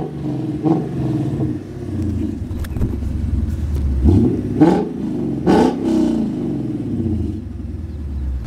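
A Lexus 5-liter V8 in a Japanese sedan blips and revs, a deep rumbling idle broken by several sharp throttle bursts that rise and fall, heard close with no talking.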